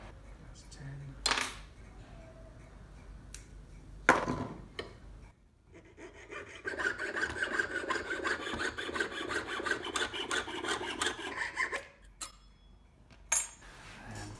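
A strip of metal about one millimetre thick is cut for a ferrule in a workshop: a few sharp clinks and taps, then a long steady rasping cut, with no talk.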